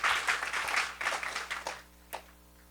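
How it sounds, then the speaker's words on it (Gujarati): An audience at a devotional religious discourse gathering applauds in a brief burst of clapping that fades out within two seconds, followed by a single late clap. "એ બદલ આપણે એક વખત તાળીઓથી વધાવીએ."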